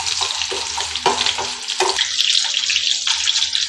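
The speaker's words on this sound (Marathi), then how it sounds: "आता इथे आपला कांदा ऑलमोस्ट भाजत आहे" Chopped onion and garlic frying in oil in a home kitchen, giving a steady, close hiss and sizzle with a few brief stirring scrapes and clinks throughout.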